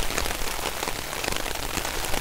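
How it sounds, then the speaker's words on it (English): Steady rain drums on a camping tarp in a dense, constant patter, close and fairly loud, with wind-blown gusts and no voices. "the rain's kind of blowing in this way"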